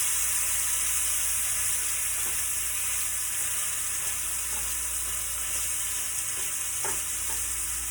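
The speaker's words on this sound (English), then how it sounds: "now I'm going to take my steak and place it in this hot" A steak sears in a hot pan, giving a steady, dense sizzle that holds throughout, with a few faint ticks and pops scattered over it.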